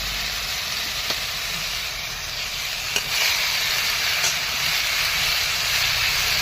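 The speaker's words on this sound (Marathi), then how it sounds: "टोमॅटो व्यवस्थित फ्राय करून घ्या। पात टाकून मध्ये" Chopped tomatoes and farm-grown onion greens fry in a pan with a loud, continuous hiss and sizzle, broken by a few sharp clicks of stirring, and no one speaks.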